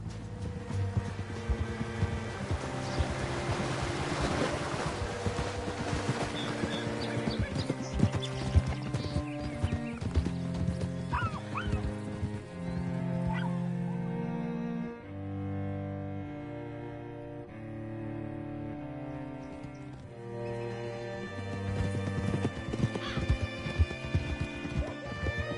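Horse hooves clip-clop steadily through a video game scene as a rider travels, the rhythmic footfalls sitting under a continuous bed of game music for the whole stretch.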